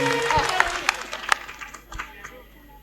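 Audience clapping at a spiritual antakshari gathering, scattered hand claps standing out over a background of voices and hall noise.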